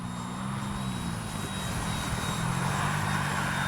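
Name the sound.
FMS 70mm Yak-130 RC jet flying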